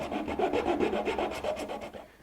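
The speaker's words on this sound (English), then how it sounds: "And now a little bit of cleanup work with a coarse file." A coarse file rasps back and forth across cedar wood in quick, even strokes, close and fairly loud with no talk.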